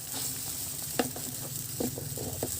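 A pot of chicken broth for nilagang manok bubbles on the stove, a close, steady simmering hiss with occasional soft pops and clicks, no voices.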